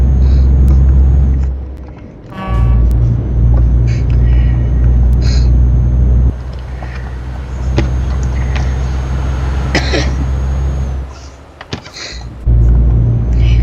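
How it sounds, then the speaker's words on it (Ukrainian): A truck in Euro Truck Simulator 2 rolls along slowly, its engine a loud, steady low rumble with a continuous drone that dips briefly in a few places. No one speaks. "Знову повільно машина їде."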